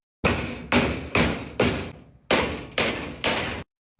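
Hammer blows on a dented, bent metal piece from a military generator, set on a block of wood: seven loud, evenly spaced metallic thuds about half a second apart, close up, with no talking.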